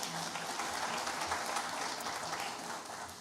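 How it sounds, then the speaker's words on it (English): A seated audience at a respiratory therapy pinning ceremony claps in a dense, steady wash that holds evenly throughout and tapers slightly at the end. "She could not be with us tonight, but we'll still clap her up anyway."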